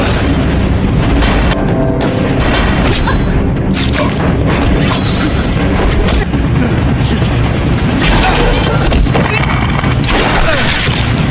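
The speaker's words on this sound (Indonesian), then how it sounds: "Dayon kemudian menembak Alpha." Gunshots in a film scene ring out among dense, continuous booming action noise, loud and sustained throughout with no clear separate shots and no speech.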